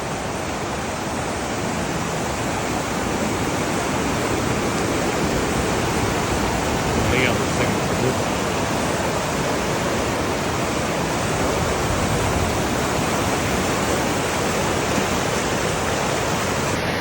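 A river rushes past about fifty feet away in remote countryside, a loud, steady broadband roar of flowing water that fills the whole stretch, with a few brief spoken words barely rising above it.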